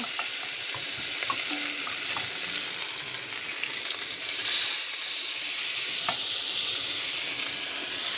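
Khasuli fish frying in a pan: a steady, even sizzle of hot oil with scattered small pops and crackles, continuous and fairly close, with no talking.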